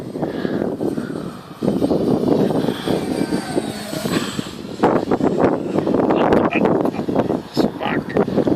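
An RC Hype Pitts Special model airplane in Skip Stewart's black scheme drones steadily through its maiden flight on a windy day, the engine noise rising and falling continuously under wind buffeting, with people talking nearby.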